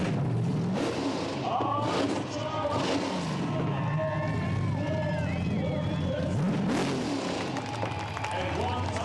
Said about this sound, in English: This is a really, really good skid.